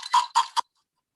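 A 1920s pressed tin chicken clucker noisemaker sounds three quick, scratchy squawks in a row, close and fairly loud, followed by silence.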